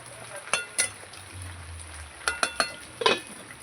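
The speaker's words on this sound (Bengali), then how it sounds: "এবার ভালো করে বেরেস্তা দিয়ে মাংসটা আলুটা একবারে কষিয়ে নেবো আবার নেড়ে চেড়ে আবার ঢেকে দেবো" Chicken and potatoes with fried onions stirred in a pot for biryani, giving a soft low sizzle broken by sharp scraping clatters of a spoon against the pan.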